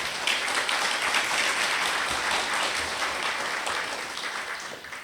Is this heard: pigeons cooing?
no